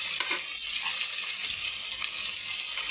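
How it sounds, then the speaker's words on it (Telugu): Chopped green chillies and onions sizzling in hot oil in a pan while being stirred, a steady close hiss of frying that fills the whole stretch with no talk. "బాగా కలుపుకోవాలి"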